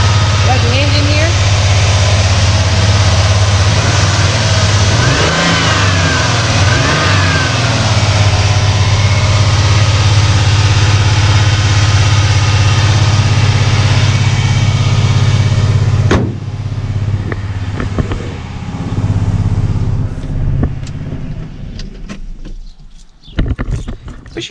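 A car engine idles steadily nearby with a deep, even low rumble for most of the stretch, someone talking over it now and then, before the engine cuts off and only faint background sound remains.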